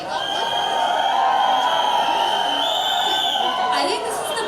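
A big crowd at the Deva movie trailer launch with Shahid Kapoor and Pooja Hegde, cheering and whooping loudly and steadily, with shrill shouts and chatter mixed in throughout.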